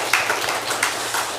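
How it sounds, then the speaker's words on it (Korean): A church congregation claps together during a Sunday morning service, a steady wash of many hands sustained throughout at moderate loudness. "그런 마음으로 다시 한번 박수하겠습니다"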